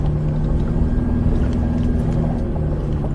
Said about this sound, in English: Using the engine to brake me on the way down the hill.